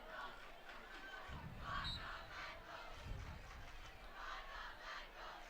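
Crowd noise fills the stands at a night high school varsity football game between Kimberly and Appleton North, a steady murmur of many voices with swelling cheers and shouts rising and falling throughout.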